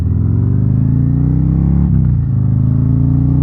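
A 2024 Harley-Davidson Street Glide with a 114 or 117 motor accelerates in road mode, its low, loud engine drone rising steadily with a brief shift-like dip midway, continuous and close with no talk.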